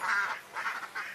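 Ducks in a pen quack in three short nasal bursts, close and fairly soft, with no talking.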